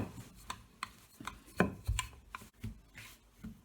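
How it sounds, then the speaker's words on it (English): Flaky pastry dough being rolled out with a rolling pin on a work surface, a series of soft irregular thumps and rubbing knocks, close and fairly quiet, with no talking. "So we're going to roll it out"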